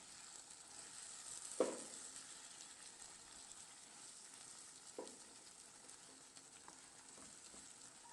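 Food cooks in a covered pan with a little added water. A faint, steady simmering sizzle runs throughout, with a couple of soft knocks from the pan, and no one speaks.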